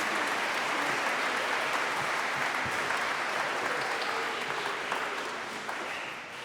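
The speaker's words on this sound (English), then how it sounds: "So let's give everybody a big round of applause" A large audience of schoolchildren and staff applauds award winners at a school NAIDOC assembly, dense sustained clapping from many hands that fills the room and tapers slightly toward the end.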